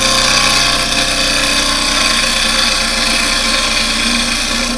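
Yew wood spinning on a lathe under a peeling cut: a loud, continuous motor drone with a dense, steady hiss from the tool on the wood, heard alone without speech.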